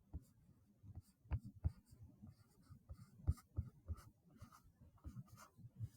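A pen scratches out a subtraction sign in exponent-rules math notes, with faint, quick strokes and taps in short bursts over quiet low hum.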